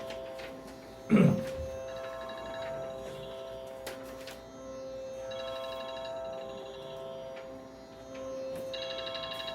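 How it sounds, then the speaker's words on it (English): A mobile phone ringing during a Janmashtami celebration gathering: a repeating electronic ringtone pattern at moderate level, returning several times across the span after a brief louder thump near the start, with no talk. "Someone's phone is ringing."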